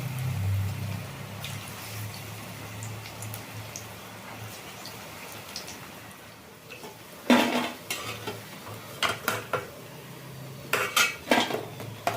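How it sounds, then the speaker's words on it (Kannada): Small gram-flour fritter pieces frying in oil in a pan for an evening tea snack, a steady sizzle heard close, then sharp scraping and clanking strokes as a metal spoon stirs them. "ಇದು ಚಿಕ್ಕ ಚಿಕ್ಕದಾಗಿ ಹಾಕೊಂಡ್ರೆ ಒಳಗೆಲ್ಲ ಚೆಂದಾಗಿ ಬೇಯುತ್ತೆ"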